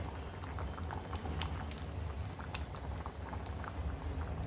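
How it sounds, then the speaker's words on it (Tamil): A pot of tamarind curry with drumstick, brinjal and jackfruit seeds bubbles steadily at a full boil, with soft continuous popping and faint gurgling, with no talk. "குழம்பு நல்லா கொதிச்சிட்ருக்குங்க."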